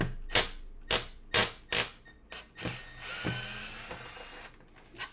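A power drill removes screws from plastic on a vacuum sweeper, whirring in four short, sharp bursts, followed by softer clicks and a lower mechanical hum, close and fairly loud.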